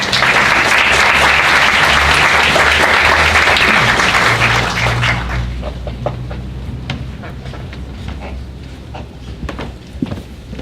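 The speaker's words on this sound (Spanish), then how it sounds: "Lo recibimos con un fuerte aplauso." An audience at an environmental-impact conference on the fishing industry applauds loudly to welcome a speaker. The clapping fills the first half, then fades into quiet room noise with a few scattered claps and shuffles.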